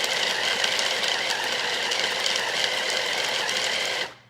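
A small food processor crushes almonds for protein balls with a loud, steady whirring grind that runs close and continuous, then stops abruptly.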